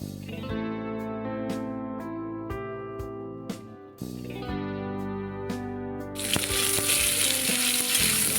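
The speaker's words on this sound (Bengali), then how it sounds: "একটু হলুদ দিয়ে দেব হলুদ দিয়ে বেশ ভালো করে ভেজে নে" Cauliflower frying in oil with turmeric, heard as a steady sizzle under background music that swells into a loud, bright, crackling fry for the last couple of seconds.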